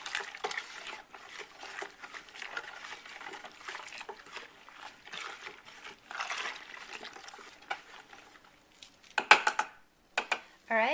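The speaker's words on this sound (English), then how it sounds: "Give it your final stir. And go ahead and mix it real good here at the end." A homemade laundry detergent mixture with OxiClean is stirred in a container, soft irregular scraping and sloshing strokes ending in a few sharper clinks and knocks near the end.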